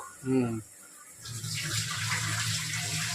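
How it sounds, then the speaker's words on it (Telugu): Semolina (rava) is washed for idli batter under a running tap: after a brief voice, water gushes steadily into a vessel, close and continuous, with a bright splashing hiss. "ఇడ్లీ పిండి నానబెట్టా కదా, రవ్వ కడిగేసుకుంటాను"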